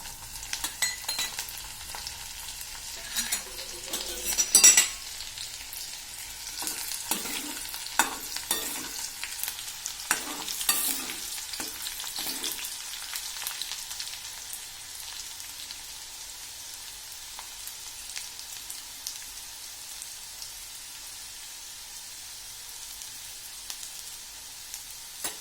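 Garlic fries in hot oil with mustard seeds and cumin, a fine crackling sizzle like light rain that holds steady, with spoon taps and stirring scrapes clustered early and thinning out later; no voices.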